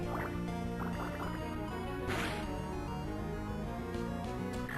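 Water Gun attack effect in Pokémon Emerald, a short chiptune burst of bubbly, gurgling tones riding over looping game music, with a bright splash accent near the middle.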